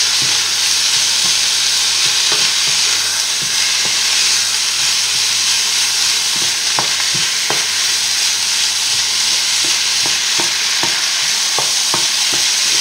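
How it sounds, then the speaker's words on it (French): Minced meat for a bolognese sauce sizzling loudly in a pan, a continuous bright frying hiss with periodic scraping clicks of a spoon stirring the meat, close and without talk. "Alors on remue bien de façon à ce que la viande ne fasse pas de paquets"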